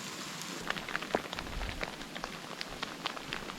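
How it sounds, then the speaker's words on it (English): Steady rain patters outdoors on a backpacking trip in Miter Basin, with scattered louder drops striking a surface against a continuous wash of falling water. "Just waiting out some rain here."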